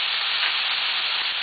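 Stuffing for a stuffed grilled fish, made with coriander, cumin, black pepper and lemon juice, sizzles and hisses steadily in a pan while being stirred, a close, constant frying sound with no voices.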